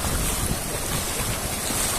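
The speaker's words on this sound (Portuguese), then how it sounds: "ouvindo o som do mar" Sea waves wash steadily at the water's edge of Praia Grande beach, Canto do Forte, on the São Paulo coast, a constant loud roar of surf mixed with wind buffeting the microphone, with no voices.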